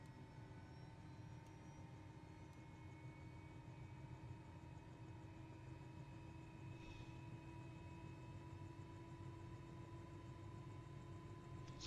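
Helicopter turbine engines in Microsoft Flight Simulator spooling up during a warm start, a steady droning engine hum with a broad low rumble and sustained mid tones that holds evenly throughout, with no talking.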